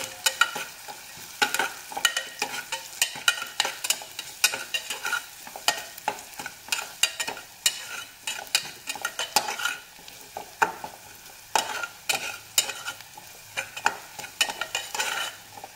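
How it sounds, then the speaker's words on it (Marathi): Coarsely chopped garlic and coconut sizzle in hot oil while a spoon stirs the pan, giving steady frying crackle with frequent scraping strokes, close and alone. "ते 1-2 चमचे टाकूया आणि तेलात छान परतून घेऊया ते।"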